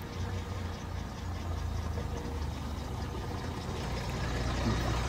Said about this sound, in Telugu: బాగానే ఉంది ఇంజిన్ సౌండ్, ఐడియల్లో నడుస్తుంది.